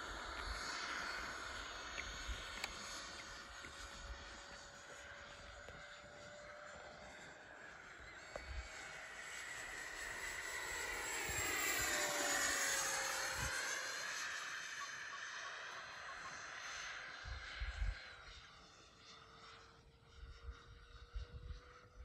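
A Freewing MiG-21 80mm electric ducted-fan RC jet roars steadily as it flies after takeoff, its whine rising and swelling in a long pass overhead, then fading with a doppler drop, with a few brief bumps near the end.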